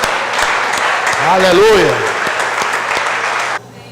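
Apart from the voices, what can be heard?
congregation applauding in church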